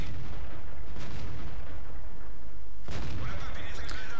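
Tank cannon fire in World of Tanks: a loud, close gunshot blast at the start and another heavy boom near three seconds, each with a rumbling tail, amid game noise.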